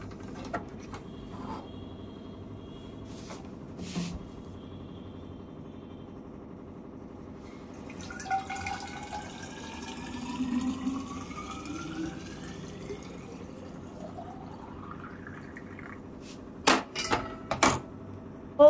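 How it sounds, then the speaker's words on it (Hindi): Water poured into a bottle at home, a quiet trickle with a rising pitch as the bottle fills, followed by a few sharp clinks and knocks near the end. "हो गया है पानी, मैं बॉटल में भर लेती हूँ जल्दी से।"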